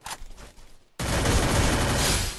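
Gunfire in the battle-royale game Free Fire: a brief quieter shot pattern, a short gap, then a sudden loud, sustained burst of rapid automatic fire that runs to the end.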